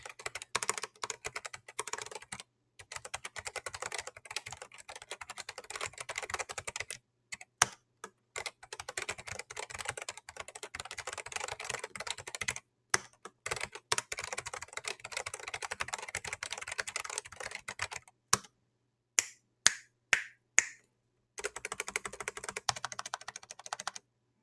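Rapid keystrokes on a Riskeyboard 70 mechanical keyboard, close and clear, come in bursts of steady typing broken by short pauses and a few isolated single key presses near the end, with no voices.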